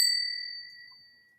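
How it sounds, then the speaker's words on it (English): A single bright notification bell dings once, clear and close, its tone ringing out and fading smoothly over about a second and a half with nothing else around it. "hit that notification bell"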